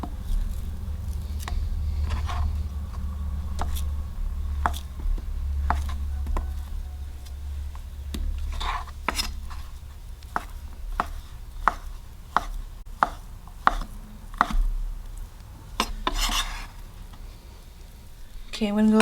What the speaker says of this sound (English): I'm just gonna cut this into cubes.